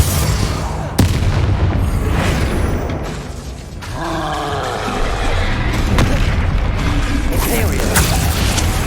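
Explosive Bombarda and Confringo spells in the Hogwarts Legacy video game, a dense, loud run of booming blasts and rumbling impacts with sharp cracks, mixed with shouting character voices during combat.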